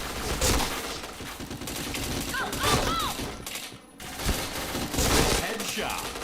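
Dense, continuous gunfire from the Point Blank video game, with bursts and thuds layered over constant in-game noise, loud and close throughout.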